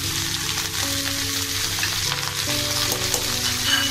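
Spices and chillies frying in hot oil, a dense, loud, continuous sizzle and crackle close up, steady for the whole stretch with faint stirring underneath and no talk.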